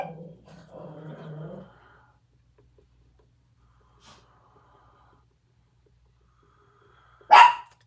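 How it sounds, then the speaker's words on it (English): Indoor dog growling low at first, then after a quiet stretch a single sharp, close bark rings out near the end. "And the dog will bark."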